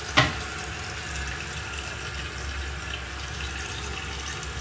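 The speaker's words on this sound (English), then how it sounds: "obviously you see how much water is being sucked out of the tank" Water runs and drains from a toilet tank in a steady, hissing rush after a brief knock at the start, continuous and moderately quiet.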